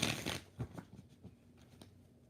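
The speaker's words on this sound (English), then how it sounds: "Let's give you a different deck. How does Ian the Leo feel towards Zola? 3 shuffles" A tarot deck being shuffled, a quick burst of riffling card flutter up front followed by a few soft, scattered taps and slides, close and quiet with no talking.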